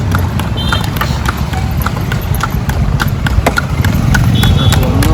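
Quick, regular hoofbeats of a horse clip-clopping close by on a road near the Nepal–India border, over a low rumble of road noise and outdoor background.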